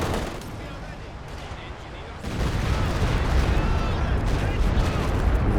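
Base artillery barrage firing in Company of Heroes 2, a quiet stretch giving way to a heavy, sustained roll of booming shell fire and rumbling blasts that stays loud and dense to the end.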